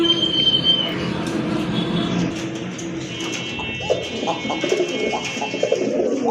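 Domestic pigeons, a mixed male and female pair of racing and fancy breeds kept for sale, coo softly and repeatedly nearby in low throaty bursts, with a steady background hum running underneath.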